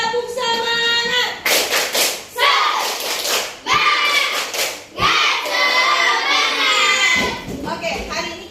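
A class of children repeats the tepuk semangat spirit clap, loud patterned handclaps and thumps mixed with energetic chanting from many young voices close by.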